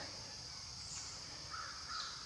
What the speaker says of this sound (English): Heard a lot of crows